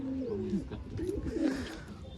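Soft, low cooing of high-flyer pigeons, a few rolling coos close by over faint background murmur.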